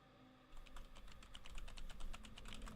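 Computer keyboard keys tapped while playing the game s.p.l.i.t, a quick irregular run of soft clicks, close and fairly quiet, building after a brief silent start.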